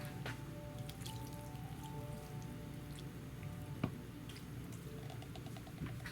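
Water poured from a container into a worm bin set up with hamster bedding compost, heard as soft dripping and trickling splashes with one brief sharper splash, fairly quiet and steady throughout.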